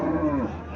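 A cow at a cattle market in Chandmura, Comilla lets out a close, loud, drawn-out moo that lasts nearly a second, with no speech over it.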